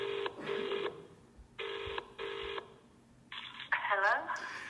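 A telephone dials out to place a call, with bursts of steady DTMF keypad tones in short blocks, then a chirpy electronic line sound rising near the end, loud and close with no talk.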